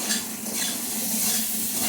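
Potatoes frying in a pan for a dried hilsa curry, a close, continuous sizzle with a soft low hum and faint utensil scraping throughout.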